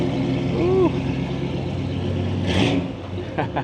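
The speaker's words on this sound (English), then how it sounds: "All right, we got the Jaguar. Leaving." A Jaguar car pulls away at a cars and coffee meet in Concord, a rumbling engine rising briefly under crowd noise and chatter, with people talking nearby.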